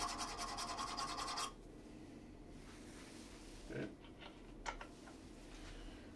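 A negative rake scraper rasps against a turned workpiece in a brief burst of dry scraping, then fades into quieter room noise broken by a few faint scratches and ticks.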